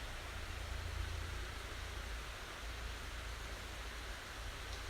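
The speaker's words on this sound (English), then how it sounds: "listen to not only the birds in the trees, but also that calming rush of the water" Steady broadband rush of water flowing through woodland on Hawksworth Moor, a constant near wash of sound with no distinct events, with no birds or voices standing out.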